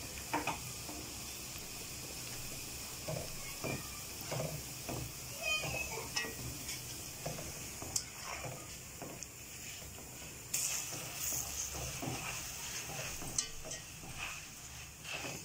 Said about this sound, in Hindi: माशाल्लाह से ये अच्छा फ्राई हो रहा ये चुड़वा से अच्छा फ्राई हुआ